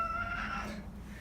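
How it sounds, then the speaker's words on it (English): A male cat gives one drawn-out, squawking meow, fairly faint and close, trailing off in a quiet indoor room. "that's my cat Squawk, and he's squawking"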